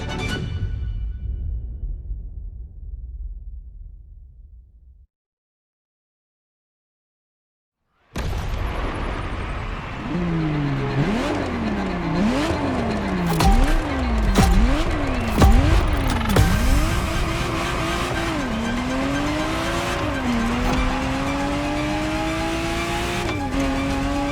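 A Ferrari Testarossa in The Crew Motorfest: a low rumble fades into silence, then the engine roars back and climbs repeatedly through sharp gear changes, pitch sweeping up and dropping with each shift, loud and up close.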